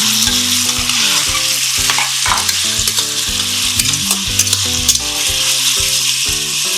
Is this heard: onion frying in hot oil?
yes